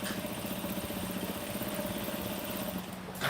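A sewing machine top-stitches a cape, giving a steady, close mechanical whir with a fast regular stitching rhythm that runs unbroken before cutting off near the end.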